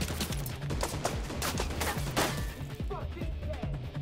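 Rapid pistol gunfire from a shooter video game, The Division 2, crackling in quick bursts beneath an excited player voice and busy game sound.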